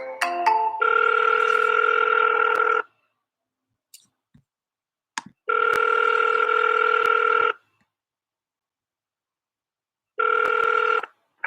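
Outgoing call ringing through a computer: three long electronic ring tones, each about two seconds, separated by silent gaps with a few faint clicks.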